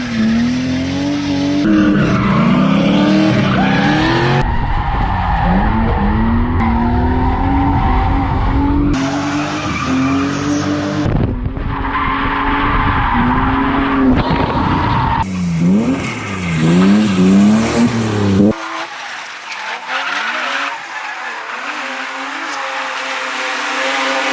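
Loud tires squeal and screech continuously as a BMW E36 drift car's engine revs and wails up and down through a long drifting run.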